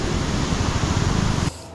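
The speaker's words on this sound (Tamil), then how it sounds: "ஒரு ஸ்ட்ரீம் அடித்து சூப்பராக போயிட்டுருக்கு. தண்ணி பாருங்கள், தண்ணி ஃப்ளோவை பாருங்கள்." A river stream rushing in Munnar, Kerala gives a steady, loud, broadband wash of flowing water close by, which drops away sharply near the end.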